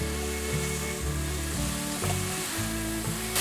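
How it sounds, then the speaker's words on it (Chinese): Tomato, yellow bell pepper and enoki mushrooms sizzle loudly in a hot pan while being stir-fried quickly, with repeated scraping strokes of the spatula over continuous frying hiss. "快速的翻炒"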